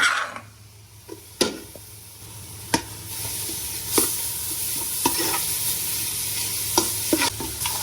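Curry paste sizzles and fries in a hot pot while being stirred for an Isan-style red tilapia soup with tiew leaves, a steady close hiss broken by sharp scrapes and knocks of the utensil against the pot.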